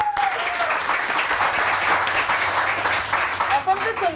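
Studio audience applause on a morning talk show after a song segment, steady and fairly loud, with a voice talking over the clapping.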